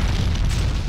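A deep, rumbling blast from Max Payne 2, a short heavy roar that fills the moment with dense low boom and noisy debris, loud and close with no talk over it.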